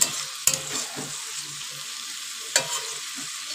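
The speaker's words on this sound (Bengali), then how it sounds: "আর এদিকে চিন ভাজা হচ্ছে।" Prawns frying in a pan give a steady close sizzle, broken by two sharp utensil knocks and a few scraping stirs.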